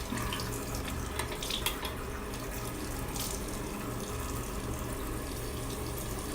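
Tap water runs steadily into a sink while facial cleanser is rinsed off, a constant close splashing flow with small irregular splashes from hands moving under the stream, no speech.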